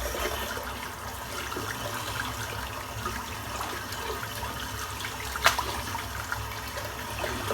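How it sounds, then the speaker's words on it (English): Lukewarm water runs steadily from a tap as shaving soap is rinsed out, an even close trickle and splash throughout with one sharp knock partway through. "Just going to rinse this soap out."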